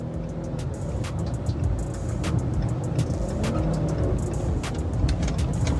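A car with one flat tire speeds away from police, a steady loud engine roar with road rumble continuing throughout, punctuated by sharp clattering bursts, no voices.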